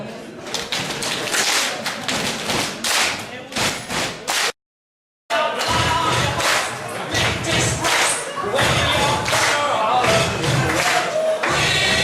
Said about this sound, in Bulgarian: И сега след тези две удари, пляскаме с ръка за трети так.